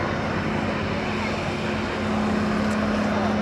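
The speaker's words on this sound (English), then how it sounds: "Full span ailerons allow the aircraft to do these really quite weird manoeuvres. 360 degrees per second that aircraft rolls." A Royal Jordanian Falcons aerobatic display aircraft at an airshow at Waddington gives a steady, loud propeller-engine drone, with a commentator talking over it.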